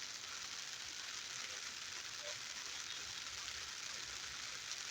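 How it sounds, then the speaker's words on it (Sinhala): Heavy rain pours steadily at Moratuwa railway station, a dense, even hiss of falling water that holds at the same level throughout without any clear voices. "දැන් මාර වැස්සක් වහිනවා"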